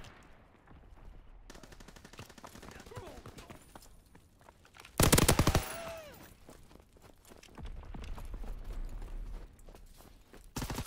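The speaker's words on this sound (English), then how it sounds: "I hate the PPSH so much." Bursts of PPSh submachine gun fire in a multiplayer shooter game, a loud rapid stutter of automatic shots with scattered footsteps and game noise around it, and someone talking in places.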